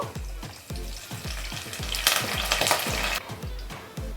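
Thin-sliced onions and curry leaves frying in a pan for a lady's finger and mango curry, a near, continuous sizzle over a regular run of low, thumping knocks, swelling louder midway, and no one talks.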